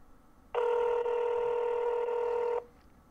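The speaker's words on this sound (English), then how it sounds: "it's annoying to have that phone keep ringing while you're trying to check someone out" A telephone rings at a GameStop store checkout counter, one sustained electronic trill of about two seconds, loud and close, with no talk over it.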